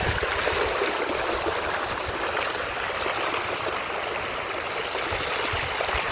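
A small stream of water trickles and flows steadily near a bike outing with a 2019-2020 Toyota RAV4, a continuous close, broadband babbling rush with no voices.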